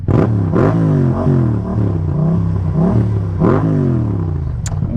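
Close, loud motorcycle engine revving repeatedly, the pitch rising and falling in uneven bursts of throttle.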